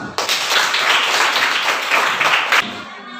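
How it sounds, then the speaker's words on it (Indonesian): Students in a classroom lesson give a round of applause, a steady wash of clapping lasting a few seconds before stopping abruptly. "Tepuk tangan"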